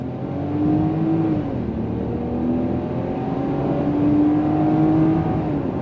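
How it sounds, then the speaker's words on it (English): A 2024 Range Rover Velar accelerates hard at full throttle, its engine note climbing in a steady rising drone from the cabin, loud and continuous with no talking. "But let's go on throttle again, just to show you how quick this thing is."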